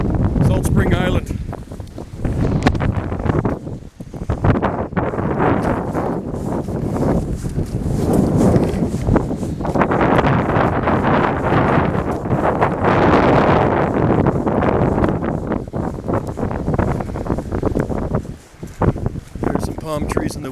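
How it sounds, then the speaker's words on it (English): Windstorm on Salt Spring Island roaring through palm trees, loud sustained gusts with heavy microphone buffeting and rustling fronds, with someone talking over the wind. "There's some palm trees in the wind for you."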